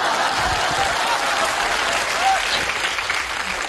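An audience claps steadily through a comedy sketch performance on a stage, dense, sustained applause filling the space at full loudness without a break.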